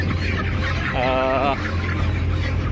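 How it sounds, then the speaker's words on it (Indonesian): Dense background of tens of thousands of chickens clucking and murmuring inside a poultry house, with one louder drawn-out call rising briefly above the steady hum. "dapat dilihat ini penampakan ayam"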